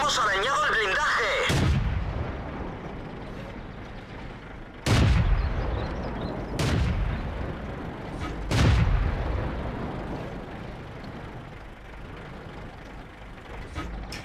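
Cannon shots from an M10 Wolverine, an American Tier 5 tank destroyer in World of Tanks, ring out as four heavy booms spaced a few seconds apart, each followed by a rumbling decay over steady engine and battle noise.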